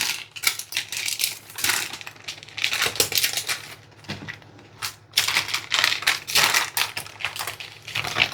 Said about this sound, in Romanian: Și vom lua hârtia de copt deasupra.